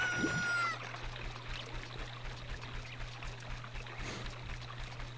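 Link swims through water in Ocarina of Time. Soft, faint splashing and trickling sit over a low steady hum, with a short bright game tone at the start.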